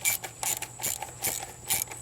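Tightening a part during a water pump install on a Corvette, a ratchet clicking in five quick evenly spaced bursts, close and moderately quiet.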